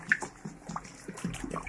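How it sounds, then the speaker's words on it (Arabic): Water is poured into a pot in a home kitchen, short splashing gurgles and trickles in quick uneven bursts, close and brief. "دابا غادي نديرو الماء"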